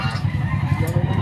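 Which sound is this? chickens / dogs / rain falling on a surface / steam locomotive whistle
chickens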